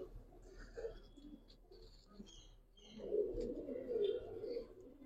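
Giribaz and coloured fancy pigeons coo softly inside a loft, their low murmurs swelling louder toward the end amid faint chirps and distant background noise.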